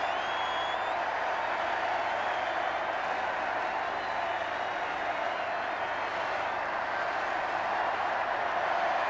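A huge crowd cheers at the 1981 royal wedding balcony appearance of Charles and Diana, a steady, dense roar of distant voices and applause that holds unbroken throughout.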